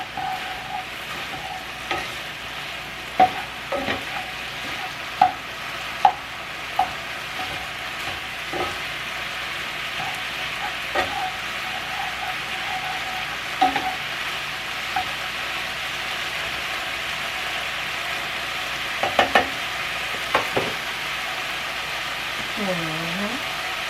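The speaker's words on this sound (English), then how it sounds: "Just waiting for everything to saute a little bit." Vegetables with bell peppers sautéing in a pan, a steady soft sizzle running throughout with occasional small clicks and pops, fairly close and even.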